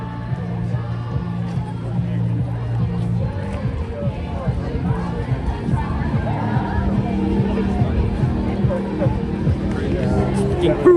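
A large evening crowd at the Osheaga 2025 music festival in Montreal fills the air with a dense, steady hubbub of distant chatter, with low musical hum and nearby voices talking over it.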